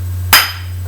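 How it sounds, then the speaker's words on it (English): A single sharp metallic whack from a hammer striking the flywheel side of a Lambretta two-stroke crankshaft, close and loud, with a brief ringing decay over a steady low hum. "I need to whack the flywheel side down"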